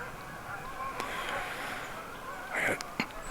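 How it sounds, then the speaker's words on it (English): Canada geese honking at sunrise over a Michigan wetland, a few loud nasal honks breaking out near the end over a continuous outdoor background with distant birds. "Canadian geese"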